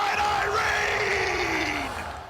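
A sellout crowd at a ONE Championship fight night in Yangon, Myanmar roars and yells after a first-round knockout, loud and sustained before slowly tapering off.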